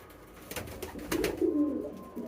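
Pigeons scuffle on a pigeon farm, close by, with steady bursts of throaty cooing and rustling that swell toward the middle and carry on to the end.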